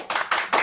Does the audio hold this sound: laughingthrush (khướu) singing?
no